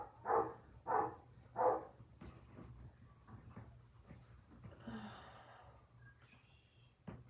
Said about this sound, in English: dogs are out there barking at her